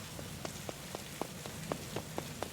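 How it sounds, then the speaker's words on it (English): Rain falling in the video game Kimochii Classroom, a soft steady hiss of rainfall with light regular drops tapping a surface, quiet and without voices. "The cold rain is drenching my clothes"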